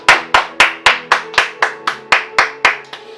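A church congregation claps in unison at a worship service, about a dozen sharp, evenly spaced claps close by, with a rhythmic pulse under a steady musical tone.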